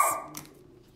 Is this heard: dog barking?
yes